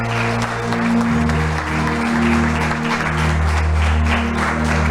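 A church congregation applauds at a Portuguese-language worship service, steady sustained clapping from a large crowd with music droning underneath.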